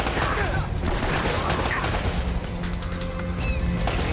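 Dense game gunfire from Uncharted: Drake's Fortune, rapid overlapping shots and impacts in a loud, sustained exchange with crashes mixed in and a voice faintly underneath.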